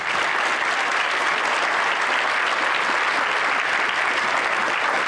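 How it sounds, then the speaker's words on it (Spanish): Applause from an audience at a church service fills the space as a dense, steady wash of clapping that holds at full strength for several seconds, with no speech over it. "¡Fuerte los aplausos!"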